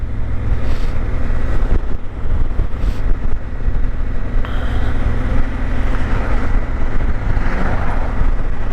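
Loud, steady motorcycle engine rumble with heavy wind buffeting the microphone, traffic noise at an Argentine border crossing continuing throughout without speech.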